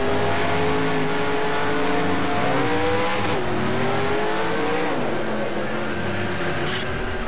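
Several race car engines roar continuously during a NASCAR Racing 2003 practice session, their pitches climbing and dropping together as cars run close by, loud and steady throughout with no talking.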